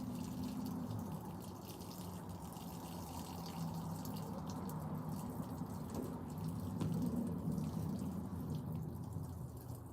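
A man urinates onto gravel outdoors, producing a steady, faint trickling stream of liquid that continues without a break under a low background hiss.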